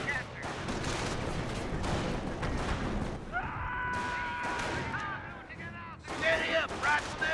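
Rapid gunfire from a BAR squad shooting at Panzer Grenadiers in the Company of Heroes battle game, with bursts of shots over a continuous battle din, then a shift to a swelling, whistling tone and a louder crash near the end.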